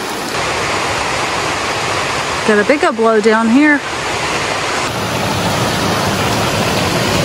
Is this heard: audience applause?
no